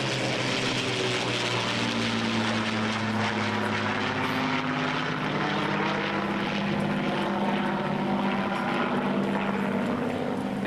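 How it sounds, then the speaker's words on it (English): Formation flyover of a de Havilland DH-98 Mosquito and a Hawker Hurricane, three Rolls-Royce Merlin engines at an air show by the beach, a steady loud droning roar with slowly shifting pitch throughout. "the de Havilland DH-98 and the Hawker Hurricane overflying our field in tight formation today, a flight of 3 Rolls-Royce Merlin engines."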